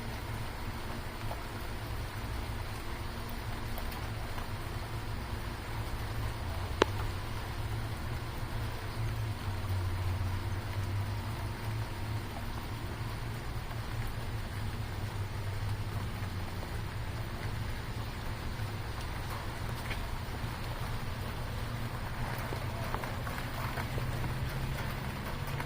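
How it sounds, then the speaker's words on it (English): Rain falls outside in a steady, even hiss with a low rumble underneath, continuous for the whole stretch and with no voices. "Raindrops keep falling on my head."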